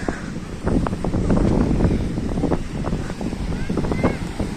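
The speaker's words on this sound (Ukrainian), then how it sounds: "тут хвилі взагалі жорсткі" Stormy Black Sea waves crash and churn at Odesa's shore under strong wind buffeting the microphone, a loud continuous roar with repeated surging splashes and a voice speaking over it.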